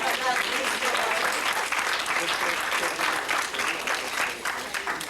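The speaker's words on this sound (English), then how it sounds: "All right, another round of applause." A crowd at a Medgar Evers College talk breaks into another round of applause, a dense, continuous clatter of many hands that stays strong before easing slightly at the end.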